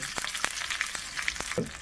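Cumin, garlic cloves and dried red chillies fry in hot oil for a tempering, giving a close, steady sizzle broken by sharp crackles and pops.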